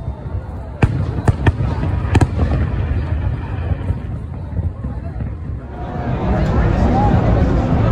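Fireworks over English Bay burst in sharp booming cracks, several in the first seconds, then a dense rumbling crackle and roar as crowd chatter continues underneath.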